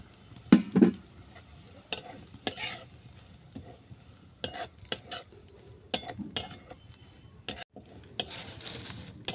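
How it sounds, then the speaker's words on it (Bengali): Oats fry in a pan with cashews and raisins while a utensil stirs them, bringing intermittent scraping and clinking against the pan over a faint sizzle, close by and without speech. "কাজু কিশমিশের সঙ্গে ওটসটাকেও আমি দু মিনিট ভেজে নিচ্ছি"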